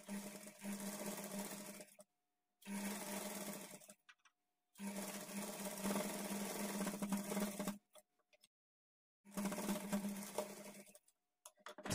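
A sewing machine stitching the edge of a blouse facing strip, quiet rapid whirring runs of a few seconds each separated by short pauses, close and steady, no talking.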